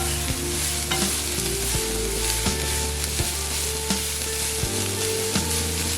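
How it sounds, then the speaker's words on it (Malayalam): Chicken pieces sizzling and frying with sautéed onions in hot oil, a loud constant crackle close up with steady stirring scrapes throughout. "സവോള ഒന്ന് വഴന്നു വന്നതിന് ശേഷം ചിക്കൻ ഇട്ടു"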